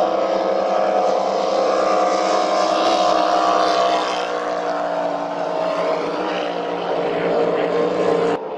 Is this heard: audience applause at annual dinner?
no